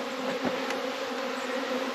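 Honeybees hum inside a hive during a late-winter cleanout, a close, steady low drone with a brief louder buzz of a bee passing nearby.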